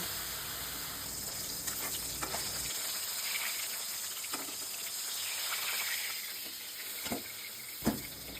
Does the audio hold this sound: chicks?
no